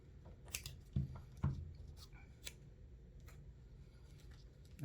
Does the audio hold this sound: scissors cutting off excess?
yes